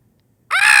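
A person imitating a Jayhawk bird call with a single loud, strained screech that bursts in suddenly after near silence.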